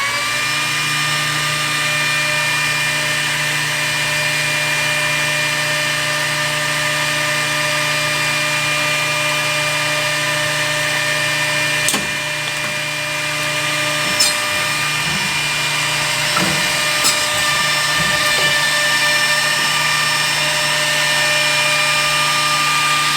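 A compact edge bander runs continuously as it trims PVC edging on a panel, a steady mechanical whine and hum with bright tonal overtones and a few brief clicks and thumps partway through.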